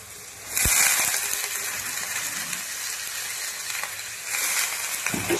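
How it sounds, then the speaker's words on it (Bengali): Cabbage and spinach drop into hot, fried-down spice paste with turmeric in a pan, setting off a loud, close sizzle and crackle that stays steady, then flares again near the end as more greens go in. "এবার ওর মধ্যে বাঁধাকপি ও পালং শাক দিয়ে দেব।"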